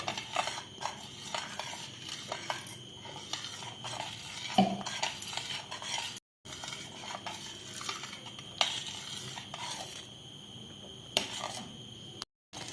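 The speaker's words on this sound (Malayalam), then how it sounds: "ഇത് നല്ല സ്പീഡിന് ഇങ്ങനെ ഇളക്കി കൊടുക്കണം" Arrowroot chocolate pudding thickens in a pan while a spoon stirs it briskly, giving a continuous soft scraping and clinking with a faint bubbling underneath and two brief dropouts.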